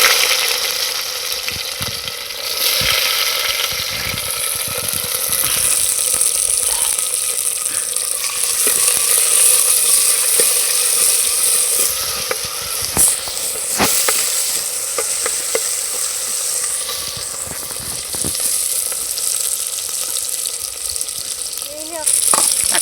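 Chopped onions fry in hot oil with garlic, a loud, continuous sizzle heard close up and stirred now and then, with occasional clatters and scrapes in the pan.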